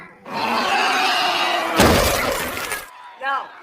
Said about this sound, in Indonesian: ada satu zombie yang kelihatannya paling ganas udah nabrak-nabrakin kaca sampai retak